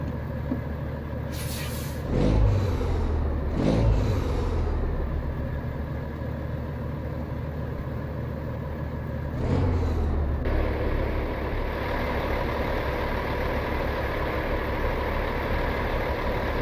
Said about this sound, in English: This is the Caterpillar 3406E, or Echo Epsilon, however you want to say this